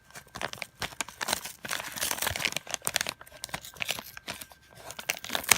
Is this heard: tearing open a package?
yes